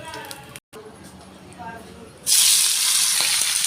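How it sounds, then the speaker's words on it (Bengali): Fish pieces fry one by one in a pan of hot oil, bursting into a loud, steady sizzle partway through after a quieter stretch with faint background activity. "একে একে আমি মাছগুলো ভেজে নিচ্ছি"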